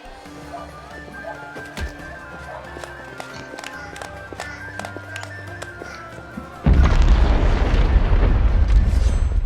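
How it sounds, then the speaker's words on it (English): An explosion bursts from punching a training dummy in the Pathfinder: Wrath of the Righteous video game: after light footsteps and taps, a loud sudden boom erupts into a sustained roaring rumble that fills the rest of the clip. "I punched that dummy so hard I set up an explosion"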